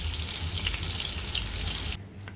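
Hilsa fish pieces fry in hot oil with a loud, dense, continuous sizzle that cuts off abruptly near the end, leaving only a faint background hum.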